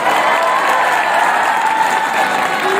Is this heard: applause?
yes